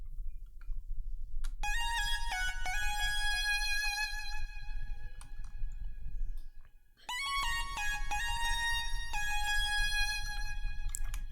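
A bright synth lead, the Wonder Square preset from Pearson's Platinum, plays a melody of sustained square-wave notes over a low bass rumble, pausing briefly around the middle before resuming.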